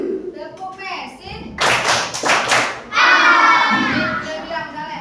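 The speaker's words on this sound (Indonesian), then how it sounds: "Tepuk Messi." Children in a classroom clap the Messi clap pattern, a short cluster of three or four loud group claps in a quick burst, with speech before and shouting voices after.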